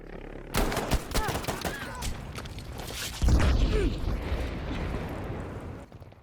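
Gunfire from an M28 con Tromboncino bolt-action rifle in a Battlefield V conquest match on Rotterdam, with dense battle noise, sharp shots and a heavy blast midway, loud and close, overlaid by game sounds.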